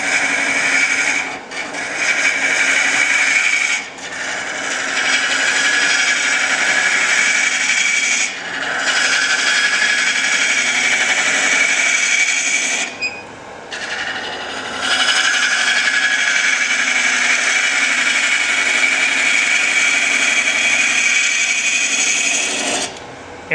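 A ring tool cuts end grain on a spinning wood lathe, giving a loud, continuous rasping shear. The cut drops out briefly several times as the tool is repositioned. No one speaks.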